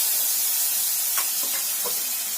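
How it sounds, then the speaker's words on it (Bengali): Potatoes frying in hot oil in a pan give off a loud, steady, broadband sizzling hiss that fills the whole clip without a break. "এখন আলুগুলো ভেজে নেব"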